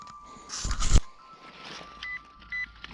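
A metal detector in a cornfield gives a faint steady tone and two short electronic beeps, after an earlier burst of scraping and rustling close by.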